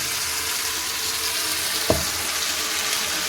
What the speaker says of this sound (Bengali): এবার পেঁয়াজ কুচিটা অনেকটাই ভাজা ভাজা হয়ে গেছে।